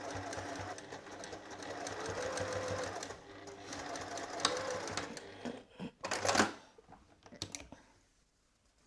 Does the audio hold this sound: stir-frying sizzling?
no